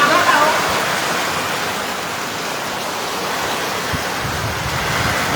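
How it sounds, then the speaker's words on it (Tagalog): Heavy rain falling in Muzon, Taytay, with strong wind, a dense, steady hiss that stays loud and unbroken throughout, with faint low thuds and rumble now and then. "Lakas ng ulan dito sa Taytay,"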